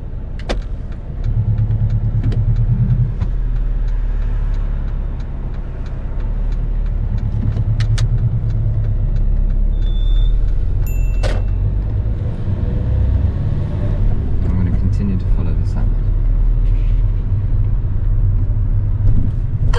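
A car on a UK driving test pulls away from a stop, its engine rumbling steadily and close inside the cabin, with small clicks and cabin noises along the way.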